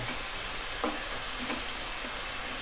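Green peas frying in a pan give a low, even sizzle, quiet and continuous, with a couple of faint stirring taps.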